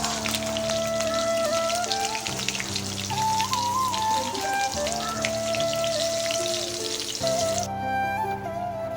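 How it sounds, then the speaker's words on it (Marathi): Chilli sautés in hot oil in a pan, a steady dense sizzle and crackle running throughout, with music playing under it. "आता आपण मिरचीला परतून घ्यायची."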